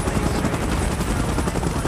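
A helicopter in the mobile shooter game PUBG Mobile churns with loud, rapid rotor thumping and a continuous engine roar, close and steady throughout.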